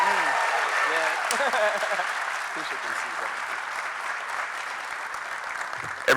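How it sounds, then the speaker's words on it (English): A conference audience at the CUNY BMI annual gathering applauds a keynote speaker taking the stage, a broad, even roar of clapping with a voice briefly audible near the start, then gradually easing in loudness. "let's give him a round of applause and welcome Mr. Shaun King to the stage"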